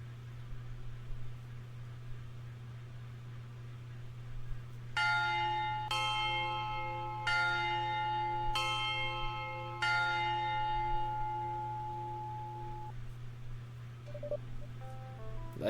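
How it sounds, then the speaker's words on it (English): A school dismissal bell chimes in a series of five bright, ringing strikes, each tone sustaining and overlapping the next before fading out, heard over a steady low background hum with no talking. "The dismissal bell rings."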